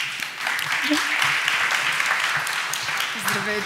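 Audience applause fills a real estate awards ceremony, a steady dense wash of clapping throughout, with a voice starting to speak faintly near the end.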